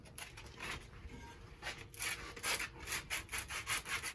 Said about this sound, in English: A little tip I like to do with the sandpaper is fold this into thirds.